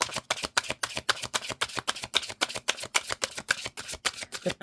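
Tarot or oracle cards shuffled by hand in a quick, regular riffle, about five or six crisp papery flicks per second, close and clear with no talking.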